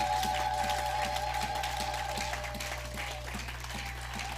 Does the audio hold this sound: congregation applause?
yes